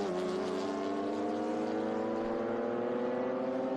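2007 Ford Mustang race cars roar past on the VIR circuit during a race, a loud, continuous engine drone with steady, slowly shifting pitch as they pass.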